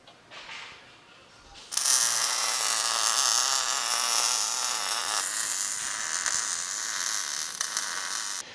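Steady electric welding crackle and buzz while tacking and running a seam on a metal part for a Toyota Tacoma, starting after a short quieter burst and continuing loud and unbroken.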